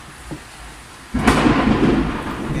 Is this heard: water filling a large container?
no